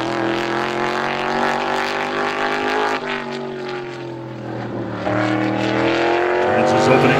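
A race car laps Star Speedway during super time trials, its engine roaring loud and close with a harmonic whine that shifts pitch as it works through the track, under a commentator's voice.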